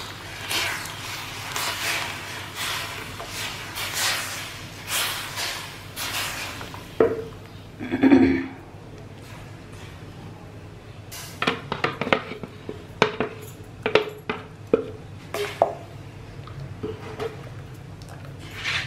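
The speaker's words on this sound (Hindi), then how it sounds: "फ्लेम थोड़ा स्लो कर लें और अपनी सारी प्यूरी इसमें डाल दें।" Mango puree for homemade mango squash is poured into a pan and stirred over a low flame, giving soft sloshing and a burst of pouring, then scattered metallic clinks and scrapes of a utensil against the pan.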